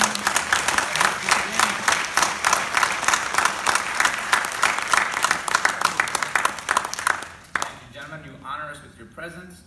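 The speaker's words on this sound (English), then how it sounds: "please join me in giving a round of applause to our guest panelists." An audience at a university candidates forum gives sustained, dense applause for guest panelists, clapping steadily for several seconds before fading out as voices take over.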